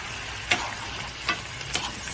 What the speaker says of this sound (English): Stir that up, make sure everything's coated.